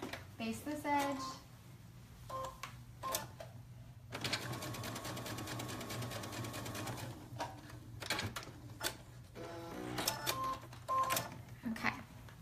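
A sewing machine bastes a fabric edge in short bursts, with one long steady whirring run of stitching in the middle, fairly close, and a person talks between the runs.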